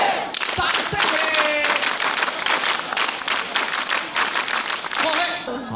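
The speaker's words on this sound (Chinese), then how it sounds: "掌声鼓励" A studio audience on a Taiwanese variety show breaks into sustained clapping, a busy wash of hand claps over a backing of talk and tonal music that carries straight through.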